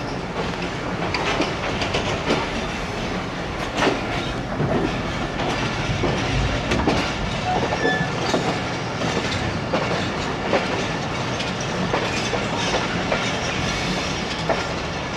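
A moving Sialkot Express passenger train rumbles steadily at close range, its wheels clattering rhythmically over rail joints with a continuous broad roar and no talk.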